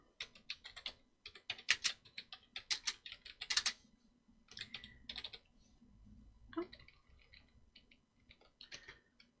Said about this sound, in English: I'm now going to have to start typing in really, really quickly